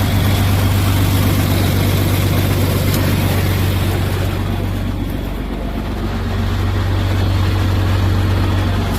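A 1970 John Deere 4520 tractor runs steadily with its 1000 PTO engaged, a loud, continuous low diesel drone with a slight dip partway through, close and unbroken, with no talking.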